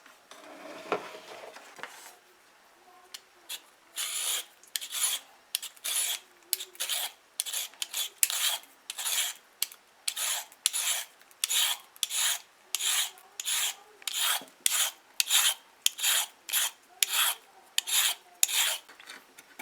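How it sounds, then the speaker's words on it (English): Peeled carrots are rubbed against a grater in a long series of rapid rasping strokes, each scrape a short bright burst, the rhythm quickening and settling into a steady back-and-forth with no talking. "So we have our carrots all peeled. And it's grating time now."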